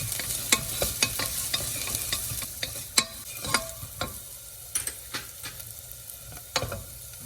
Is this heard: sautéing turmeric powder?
yes